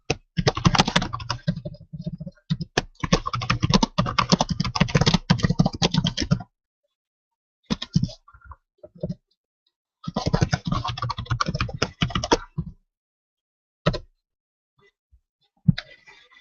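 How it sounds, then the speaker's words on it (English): Rapid typing on a computer keyboard, close and crisp, in several bursts of clattering keystrokes separated by silent pauses and a few isolated key taps. "I just typed in the Facebook group if you could hear it."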